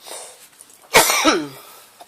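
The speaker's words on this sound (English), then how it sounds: "I'm coughing." A single sharp, loud cough close by, followed by a short rasping tail as the breath trails off.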